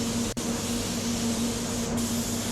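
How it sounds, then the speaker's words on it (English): Steady, loud spray-gun hiss as car paint is applied to an Audi S6 inside a paint booth, with a constant booth fan hum beneath and a brief break in the spray near the start. "So I'm in there spraying,"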